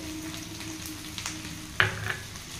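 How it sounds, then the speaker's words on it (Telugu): Okra sizzles steadily in a pan with peanuts, garlic, chili powder and a little coriander powder, with a soft constant frying hiss and one sharp utensil scrape and clink as the mix is stirred. "సిమ్లో పెట్టుకొని అప్పుడప్పుడు కలుపుకుంటూ వేయించుకుంటూ ఉండాలి"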